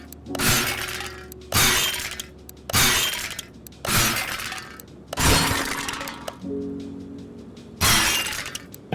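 Repeated glass smashing in the car mechanic video game CMS 2021: six loud, sharp shattering crashes spaced about a second or more apart, each with a bright burst of breaking glass and tinkling debris, no voices.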